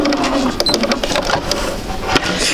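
A sewing machine stitching along a fabric seam while piecing quilt quadrants, heard up close as a loud, rapid mechanical chatter with uneven clicks and a few bursts.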